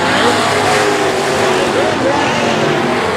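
Race cars on an oval track roar loudly together as they accelerate on a green-flag restart, a dense sustained engine drone under an excited announcer calling the action.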